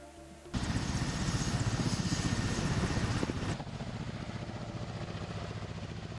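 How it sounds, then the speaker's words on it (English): A Mi-28NM attack helicopter flies past with a loud, steady rotor and engine roar that fills most of the clip, then drops to a lower, continuing drone toward the end. "Crews of the Mi-28NM attack helicopter attacked 2 Ukrainian Armed Forces armored vehicles Vikhor-1 in the Russian border zone with missiles."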